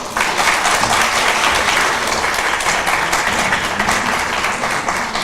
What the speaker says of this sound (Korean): 감사의 말씀을 드리면서 격려의 박수를 부탁드리겠습니다.